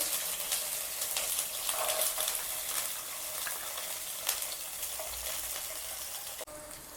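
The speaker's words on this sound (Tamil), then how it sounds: "அதே எண்ணெயில் ஒரு 1/2 கப் சின்ன வெங்காயம் ஒழிச்சு வச்சுருக்கேன். அதை சேர்க்குறேன்." Small onions (shallots) and garlic cloves sizzle and fry steadily in hot oil for a chutney, a continuous crackling hiss close by with occasional stirring scrapes and no talking.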